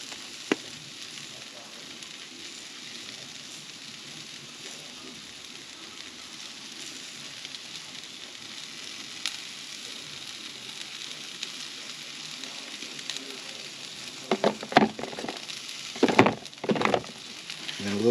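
Caramelized onion butter sizzling on hot food, a steady soft frying hiss throughout, with a few louder crackles and clatters near the end.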